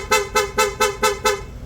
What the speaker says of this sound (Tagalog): sa busina in-install natin PIAA dual horn setup